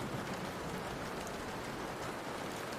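Steady rain patters against a window as a dense, even wash of drops, with no breaks and no people talking.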